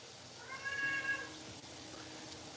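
A pet cat lets out a single clear meow, rising and falling and lasting under a second, over a quiet room background with no talking.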